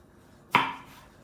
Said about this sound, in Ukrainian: Також його нарізаємо міленько і додаємо.